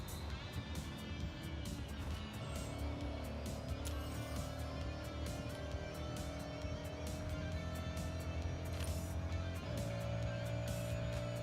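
A high-ranked Audi roars continuously through Forza Horizon 6, its engine note climbing steadily as it accelerates at speed, with a gear shift near the end and game music layered underneath.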